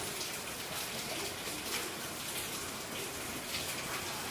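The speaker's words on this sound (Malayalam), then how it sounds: "പുറത്ത് നല്ല മഴയുണ്ട് കേട്ടോ" Soft, steady patter of rain falling, even and continuous, faint and somewhat distant, with no talking.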